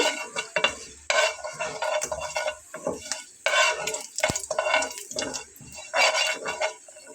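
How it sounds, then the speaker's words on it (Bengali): Onion frying in a pan for cabbage chop, with frequent metal spoon scrapes and clinks against the pan over a light sizzle, close-up, in irregular bursts of stirring. "একটু ভেজে নিয়ে আমি এখানে পেঁয়াজটা দিয়ে নেব।"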